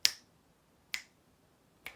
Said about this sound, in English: I took my best snaps and layered them the same way